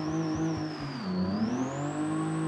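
A Boyd drift car with full livery revs in BeamNG, a loud, close engine whine that sweeps down in pitch and then climbs again, steady throughout with no talk.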